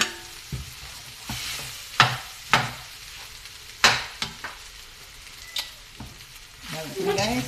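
Leftover rice for fried rice stirred in a hot pan, with a steady sizzle and repeated sharp scraping strokes of the spatula at irregular intervals, close and clear.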